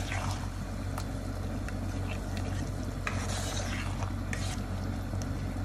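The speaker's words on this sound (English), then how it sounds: "and then all our chopped tomatoes. Give it a stir so that it's well combined." A spoon stirs chopped tomatoes into a beef and spinach stew in a pot, giving steady close scraping and wet sloshing over a constant low sizzle, with no talking.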